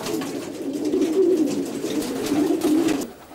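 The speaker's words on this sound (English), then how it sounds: "This is the scene inside Richard's old bird section" Racing pigeons coo steadily inside a roomy loft section with a wire floor and nest boxes, a soft continuous murmur of overlapping low calls from several birds nearby, with no talk.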